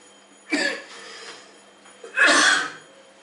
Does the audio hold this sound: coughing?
yes